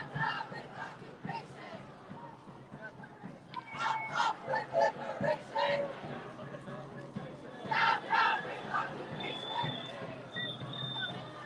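A crowd at a Palestine rally on a New York City street shouts rhythmic chants in rising bursts, loud and layered over a general murmur.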